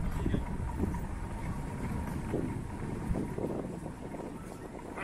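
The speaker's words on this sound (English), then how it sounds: "Actually, it's very windy for Church Street." Evening wind gusting along Church Street in Blackpool, a continuous low roar of wind buffeting the microphone with faint street noise beneath and no speech.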